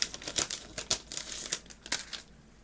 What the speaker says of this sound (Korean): 뜯어봐야겠지 뜯어봐야겠죠 뜯어볼게요